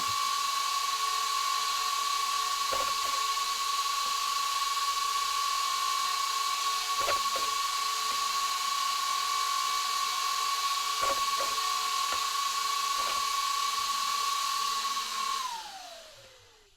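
A Genius GTC8 nitro RC car engine whines steadily at high pitch, close by, with faint clicks, then winds down and cuts off at the end.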